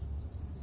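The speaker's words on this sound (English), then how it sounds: "Can you hear the birds chirping early morning?" A brief high bird chirp rings out in the early morning over a low background rumble, short and fairly clear.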